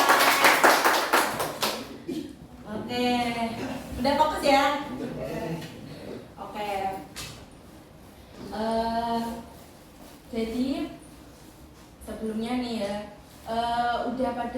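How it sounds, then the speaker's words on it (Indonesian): A group of students in a high school classroom claps hands in short bursts of rapid, crisp claps, alternating with a voice speaking between them. "Oke, tepuk tangan."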